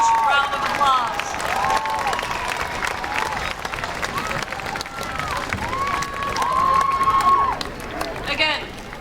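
Applause and cheering from a crowd at a 2019 college commencement honoring 4.0 graduates, sustained clapping with whoops and shouts rising and falling, and a voice calling out over the crowd.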